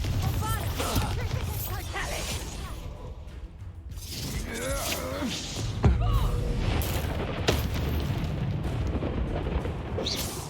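The Bombarda explosion spell in Hogwarts Legacy goes off in a run of heavy rumbling booms and crashing debris, loud and close, with cracks and clatter spread across the whole stretch.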